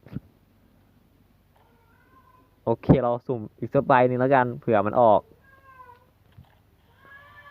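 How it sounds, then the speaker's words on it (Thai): A pet cat meows twice or three times, faint and drawn out, at the start and end, while someone talks loudly and close over the middle. "แมวก็ร้องจังเลย"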